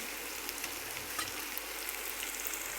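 Mutton masala roasting in hot oil in a pan, giving a steady soft sizzle and crackle that is faint and even throughout, with no voices.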